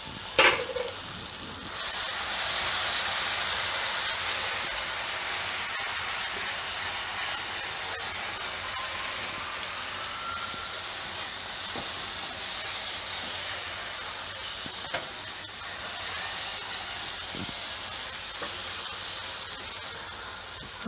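Turmeric and coriander-cumin powder sizzle in hot oil for chhole, making a steady loud frying hiss that swells after the spices go in and then holds, close up with faint stirring knocks.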